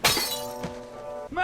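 A glass bottle smashes in the Back to the Future video game, one sharp bright crash followed by ringing shards and tinkling debris, loud and near.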